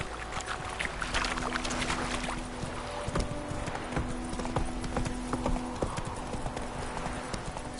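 Horse hooves in The Witcher 3, a steady rapid clip-clop of a trotting mount, close and continuous over faint ambient game sound and brief tonal hums.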